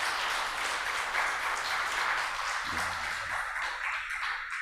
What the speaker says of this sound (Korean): 한번 일어나실 때 한번 박수로 환영하겠습니다